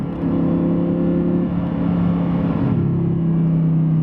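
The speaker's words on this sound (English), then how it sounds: "how good the engine sounds is it's right behind your head" An Audi R8 V10 engine, mounted right behind the cabin, drones steadily at a low, even pitch, heard from inside the cabin, with a slight shift in tone partway through and no talking.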